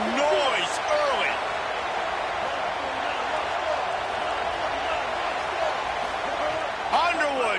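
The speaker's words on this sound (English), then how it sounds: "This crowd bringing the energy and noise early." A large football stadium crowd roars in a steady, loud wash of cheering during a college game, with a commentator's voice running over the noise.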